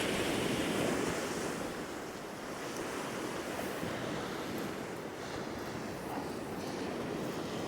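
Sea waves wash onto a beach at Hemsby on an eroding coast as the tide comes in, giving a loud, continuous roar of surf mixed with wind buffeting the microphone.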